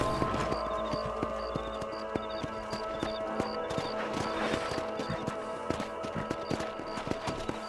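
Horse hooves clip-clopping in the Western video game Red Dead Redemption, a steady rhythmic walking beat of close hoof strikes over a tonal background score.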